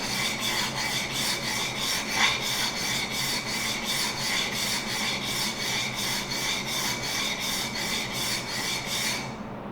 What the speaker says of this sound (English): Moving over then to the fine stone, I'm just going to repeat that process and work it back and forth